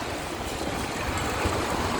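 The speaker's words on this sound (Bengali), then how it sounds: "রিমঝিম বৃষ্টি হচ্ছে" Light drizzle falls on a street on Gulshan Avenue, heard from a rickshaw as a steady, close hiss of rain and wet traffic noise with no break.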